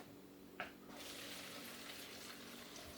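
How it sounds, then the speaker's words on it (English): Chicken broth pours from a crock pot through a strainer into a bowl, a quiet steady splashing stream that starts after a small clink and runs on evenly. "You put the strainer on top of the bowl, and then I'm going to pour this right into the bowl."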